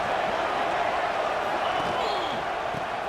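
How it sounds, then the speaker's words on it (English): A stadium crowd roars steadily in a college football video game, Nebraska against Maryland, a loud continuous wash of cheering with a few bouncing thuds in the mix. "Listen to the crowd energy here in the early going."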